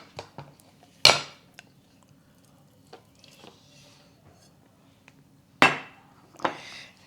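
A mochi mold flipped over onto cornstarch in a kitchen: two sharp, loud knocks against the counter several seconds apart, surrounded by small taps and soft scraping in a quiet room.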